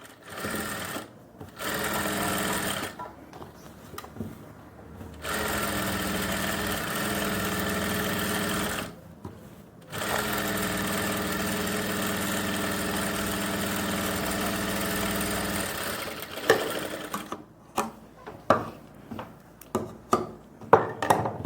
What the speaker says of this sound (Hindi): और फिर सिलाई लगाओ।